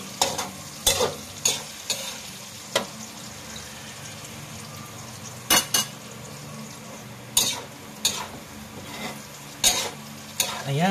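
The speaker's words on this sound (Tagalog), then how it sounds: "haluin na natin yan" Food cooking in a pan for a boodle fight is stirred, giving a spoon or spatula repeated sharp scrapes and clanks against the metal over a steady sizzle, close and clear.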